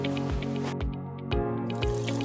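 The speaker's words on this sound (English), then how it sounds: "See this? This is water." Water drips from a household faucet, with several distinct drops falling at an uneven pace. Each drop lands close and clear over a steady background.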